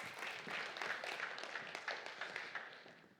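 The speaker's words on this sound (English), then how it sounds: "So big round of applause." An audience at a travel conference gives a steady round of applause, moderately distant and even in density, with a voice briefly heard over it.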